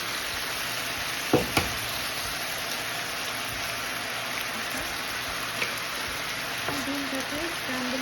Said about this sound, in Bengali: তেলের মধ্যে দুটো ডিম দিয়ে দিচ্ছি